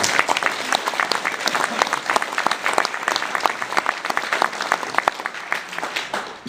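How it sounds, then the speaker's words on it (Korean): An audience at a lecture in Seattle breaks into sustained applause, a dense, even crackle of many hands clapping at steady loudness from start to finish with no clear speech over it. "그럼 박수 한번 해주세요."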